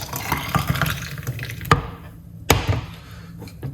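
Homemade colon-cleansing juice poured out in a kitchen, a continuous splashing liquid stream with a few sharp knocks, fairly close and loud, then quieter trickling.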